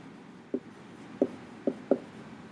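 A pencil taps and strokes on paper in four short, scratchy bursts spaced about half a second apart, close and quiet against a soft room hush.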